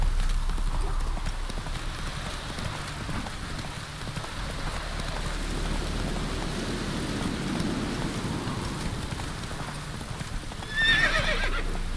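Horse hooves clip-clop at a steady trot through rain in The Witcher 3 video game, with rain pattering throughout and a brief whinny near the end, under occasional urging speech.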